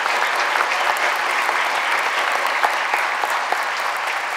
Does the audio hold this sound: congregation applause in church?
yes